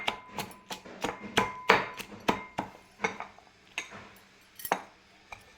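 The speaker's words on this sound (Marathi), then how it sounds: "आणि त्याला मस्त कुटून घेऊ." Chillies and coriander are pounded for Khandeshi thecha, about a dozen sharp, close thuds in an uneven rhythm, each one ringing briefly with a hard, clattering edge. No voices are heard.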